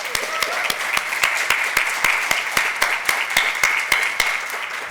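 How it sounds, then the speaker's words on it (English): An audience at the opening of the fifth annual sickle cell disease summit claps steadily, with dense applause and a few loud, distinct nearby hand claps keeping an even rhythm throughout. "I think that in itself deserves a round of applause."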